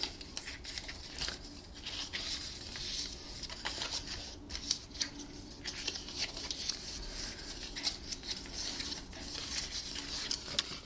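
Scissors cutting cardstock along score lines, a close run of crisp snipping and rustling paper sounds throughout, with no voices.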